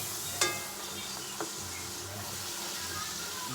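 Garlic, onion and chili sauté in a pan with a steady, quiet sizzle, broken by a couple of brief stirring clinks.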